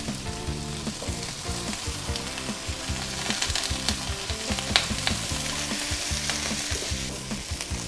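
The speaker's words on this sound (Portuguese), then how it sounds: "Vou aquecer a guarnição. Ovos de codorna." Quail eggs warming as a garnish in a hot pan, frying with a steady close sizzle and occasional stirring scrapes, with no voices over it.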